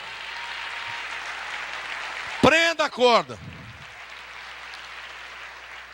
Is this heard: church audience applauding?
yes